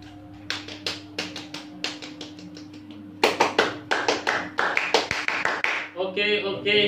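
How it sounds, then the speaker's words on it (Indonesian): A group of women performs the Tepuk Pancasila rhythmic clapping routine, sharp patterned claps in quick sets that grow louder midway, ending in a chanted vocal phrase over a steady low hum. "Jadi kita tepuk Pancasila bersama-sama."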